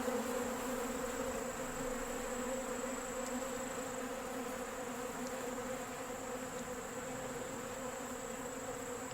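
A dense, continuous hum of honey bees buzzing together, steady and close, with no talking.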